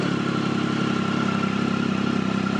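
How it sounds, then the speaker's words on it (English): A 2008 Triumph Tiger motorcycle runs with the exhaust baffle removed, giving a steady, loud engine rumble with a clattery edge that holds evenly throughout, close to the listener, with no talking. "When you're downshifting without the baffle in it, you'll hear it makes some noise."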